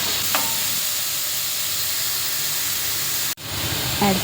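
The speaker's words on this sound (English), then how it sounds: "Saute onion till golden brown. Then add chopped tomatoes." Onions and chopped tomatoes sauté in oil in a pan, giving a steady close sizzle and hiss throughout with a brief clatter near the end and no talk.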